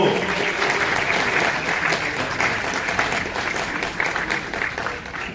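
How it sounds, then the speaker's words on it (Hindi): An audience at an award ceremony for top students keeps up vigorous, steady applause, dense overlapping clapping that stays loud and gradually tapers near the end. "तालियां बजती रहनी चाहिए, तालियों में कोई कमी ना हो।"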